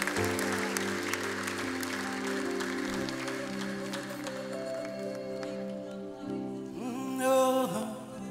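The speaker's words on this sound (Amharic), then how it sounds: "እልልታ ይውጣስ፣ ጭብጨባ ይውጣስ" A church congregation claps steadily and breaks into high, wavering ululation near the end, layered over sustained keyboard chords and worship music.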